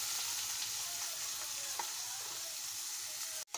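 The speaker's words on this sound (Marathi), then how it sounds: "आता कांदे व्यवस्थित लाल होईपर्यंत भाजून घ्यायचे" Onions fry in a pan with a steady, even sizzle and hiss throughout, a faint stir or scrape midway and a sharp knock of a utensil near the end, no speech.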